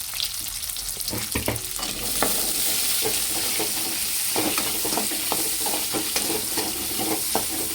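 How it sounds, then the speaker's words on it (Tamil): Onions and curry leaves fry in a hot tempering for a Tamil sundakkai kuzhambu, a steady loud sizzle with intermittent stirring scrapes and crackles throughout, close and without any talking. "இப்போ கட் பண்ணி வச்சுக்கிட்டு வெங்காயம் சேர்த்துக்கலாம் அப்படியே கருவேப்பிலையும் சேர்த்துக்கலாம்"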